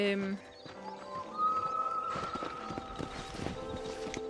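Horse hooves clop at a steady trot in the Red Dead Redemption video game, layered under game music and ambience with in-game voices present.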